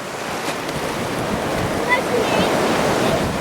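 Ocean surf washing onto Bojo Beach in Ghana, a steady broadband roar of breaking waves close by that fills the whole span, with faint voices mixed in.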